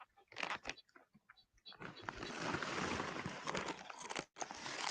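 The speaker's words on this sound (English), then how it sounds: "I can hear you crunching those chips" Someone eats chips close to a microphone, giving brittle crunches and crinkling bursts that start sparse, then merge into a dense, loud stretch of chewing and rustling with a brief pause near the end.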